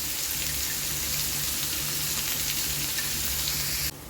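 Sliced onion frying in hot garlic oil, a steady close hiss and crackle running unbroken with no voices, the sizzle dropping sharply quieter in the final moments.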